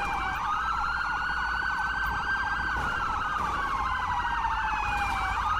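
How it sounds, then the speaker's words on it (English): Several ambulance sirens in a video game overlap continuously, loud and close, with rising and falling tones and a low engine rumble underneath. "Those ambulances are going nuts."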